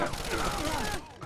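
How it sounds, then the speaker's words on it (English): Light machine gun fire in the Rainbow Six: Vegas 2 video game, a dense burst of rapid shots lasting about a second before cutting off, loud and close. "it's a light machine gun here"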